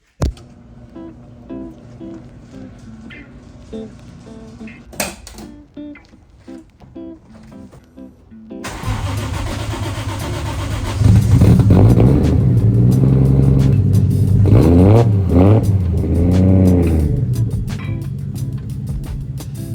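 A 1JZ VVTi-swapped Ford Mustang engine turns over and catches, then revs hard several times in loud, rising bursts, followed by a steady, rumbling idle close by.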